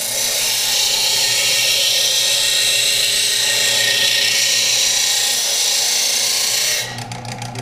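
A power grinder works steadily on a butter knife blade, a loud sustained high-pitched whine with abrasive hiss that holds for about seven seconds, then drops in level as the grind eases off near the end.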